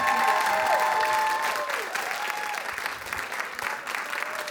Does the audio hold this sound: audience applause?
yes